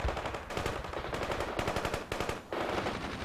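Sustained bursts of automatic machine gun fire fill a battle in the war video game The Third World War. The fire is loud and rapid, broken by brief pauses, with no speech.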